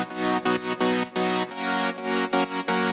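A basic saw synth patch in FL Studio, a single centred unison voice with a four-voice second oscillator, plays bright, buzzy chords in rhythmic, choppy stabs with short gaps, loud and upfront with no voices.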